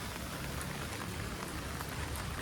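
Heavy rain pours down continuously outside a home, a dense, steady hiss of drops striking surfaces with scattered sharper splashes, filling the whole space without pauses or voices.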